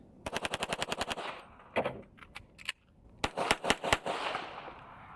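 A Hi-Point JCP .40 pistol fired in a rapid string of about ten loud, close shots, a pause with a few scattered shots, then another quick burst, all sharp and echoing, with no voices.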